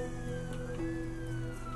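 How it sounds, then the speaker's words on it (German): Ambulance siren in SimCity 2013, a steady wailing tone rising and falling slowly, moderately loud over a low hum of the game's city ambience, with no voices. "Da fährt der Krankenwagen doch"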